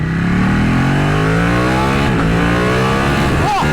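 A Ducati 1199R L-twin superbike engine revs loudly and continuously up close, its rising then falling pitch sweeping through a steady, gruff, torquey roar.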